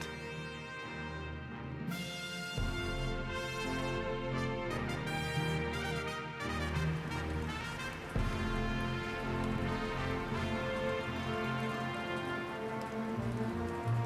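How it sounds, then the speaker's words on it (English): Steady rain falls during a Mont Blanc climb near the Gouter cabin, a dense continuous patter under a layer of music, with no talking. "Rain continues from the day before."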